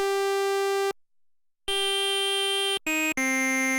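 A Roland Alpha Juno 2 synth playing bright, digital-sounding sustained tones rich in harmonics, a long held note, a pause, then another long note and two short notes at different pitches, loud and clean.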